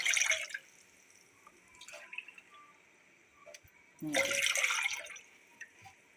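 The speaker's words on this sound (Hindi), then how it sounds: "सबसे पहले मैं इसमें पानी ऐड करूँगी" Water poured into a saucepan set on a lit stove, heard as two short splashing bursts, a brief one at the start and a longer pour later, with quiet gaps between.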